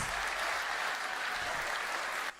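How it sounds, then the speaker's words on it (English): Dense, steady applause from a crowd at a championship final in Munich fills the whole moment, loud and even, ending abruptly. "Give him a round of applause."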